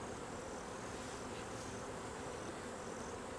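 Honey bees hum around an opened hive during a colony inspection, a faint, even, continuous buzz that holds steady with no talking.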